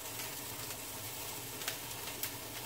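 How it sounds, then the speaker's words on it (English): Water sizzling as it cooks off in a hot frying pan, a soft, steady hiss with a couple of faint ticks and pops. "That's just the water drying out of the frying pan."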